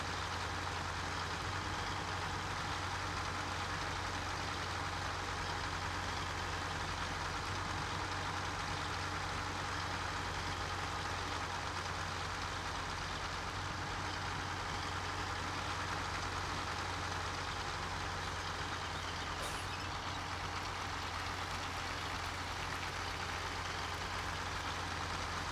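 A truck engine idles in Farming Simulator 17, parked on a corn field, giving a steady, continuous low hum at an even level for the whole stretch with no talking.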